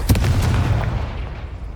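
A Confringo blasting spell fired during a wizard duel in Hogwarts Legacy, a loud booming burst with a crackling blast that trails off into a rumbling decay.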